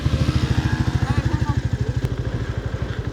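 Royal Enfield Meteor 350 thumping along on a ride, its single-cylinder engine pulsing in a fast, even beat close up, with faint talk in the background.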